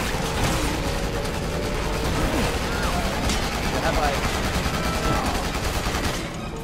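Dense, continuous gunfire from the Resident Evil 6 video game, with rapid overlapping shots filling a loud, chaotic combat scene and faint voices mixed in beneath the barrage.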